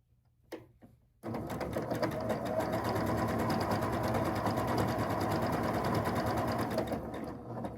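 Sewing machine stitching quilt block pieces for a block-of-the-month quilt, running steadily and loudly for several seconds after a brief pause, with a continuous fast mechanical whir and needle rhythm.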